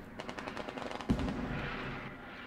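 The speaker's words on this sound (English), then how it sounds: "Very effective mortars right now being utilized by the blue team GM." In the Squad video game, a mortar barrage is fired during a tournament match, heard as a dense stream of rapid distant gunfire with a heavier boom midway and a rumbling tail.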